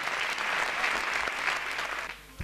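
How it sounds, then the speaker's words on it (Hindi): An audience at a Hindi poetry gathering in Pilibhit applauds the poet Jeetesh Raj 'Naqsh' with a full, even roar of many hands that holds steady before easing off near the end. "एक बार जोरदार तालियां जीते साहब"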